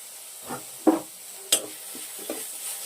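Chopped tomato frying in a pan for a hotel-style paneer tikka masala, with faint sizzling and scattered soft stirring scrapes and clinks, quiet and intermittent with no talk.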